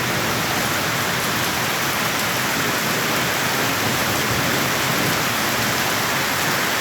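Heavy, intense rain pours steadily over flooded farmland where harvested wheat lies soaking, a dense, loud, unbroken wash of water with no talk.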